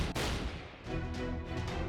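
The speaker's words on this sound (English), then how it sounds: "Those were gunshots." Loud, dense rumbling gunfire with several heavy blasts in quick succession, game-style combat effects from Fate/Grand Order.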